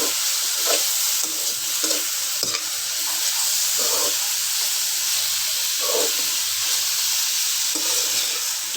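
Chopped onion, green chili and tomato frying in oil while being mixed in a pan, a continuous close hiss of sizzling with several soft stirring scrapes spread through it, no one speaking.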